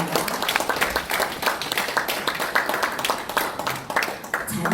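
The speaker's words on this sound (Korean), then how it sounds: "힘찬 박수 부탁드립니다." A room full of people claps steadily at a Korean peace forum held in a small National Assembly meeting room, dense and even applause lasting several seconds at a fairly strong level with no break.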